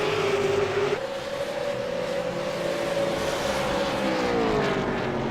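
V8 Supercars in a racing video game, set at Summit Point, hold a continuous loud engine drone. Pitch dips under braking and climbs again on throttle, with no voices.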